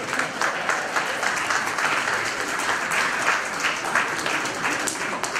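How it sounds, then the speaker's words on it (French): A roomful of participants at a workshop in Yamoussoukro, Côte d'Ivoire, applauds loudly and close by, a dense, continuous burst of clapping with rhythmic surges lasting several seconds and no talk over it. "Applaudissez un peu."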